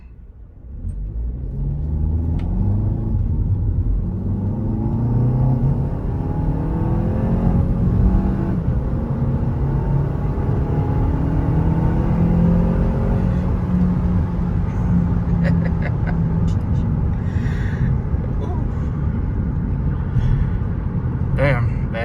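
An Audi A3 with a swapped-in S3 engine pulls along in sport mode and downshifts, its loud, steady in-cabin drone rising and falling in pitch, while a voice talks over it.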